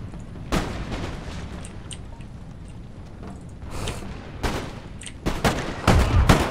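Puckle guns fire on an Empire: Total War battlefield as scattered sharp reports and heavier volleys, spaced irregularly then clustering near the end, over a low rumbling backdrop.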